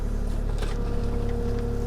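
Kubota KX040-4 excavator engine working on a hillside, a steady low diesel drone held at raised revs with a rough, continuous rumble and no talking.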